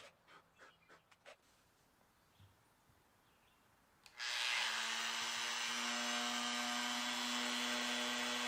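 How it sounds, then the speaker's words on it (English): Power drill boring a pilot hole into a wooden guitar body, starting abruptly after some quiet panting-like breaths and then whining steadily and loud to the end. "drill a pilot hole where the toggle switch is going to go"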